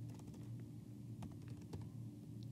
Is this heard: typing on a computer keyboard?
yes